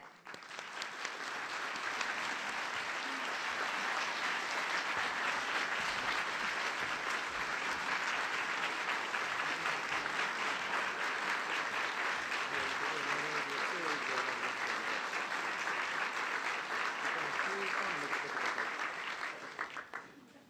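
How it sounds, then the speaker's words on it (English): Audience at the UHC Forum 2017 opening session applauding to welcome a speaker, sustained dense clapping from a large crowd that swells in, holds steady for about eighteen seconds, then fades out. "Please welcome with a warm applause, Japanese Prime Minister Shinzo Abe."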